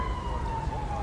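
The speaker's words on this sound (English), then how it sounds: "Now while they're coming with the siren here" A police siren in the LSPDFR mod for GTA V wails as a steady, sustained electronic tone, loud and continuous, over a rumbling, noisy game background.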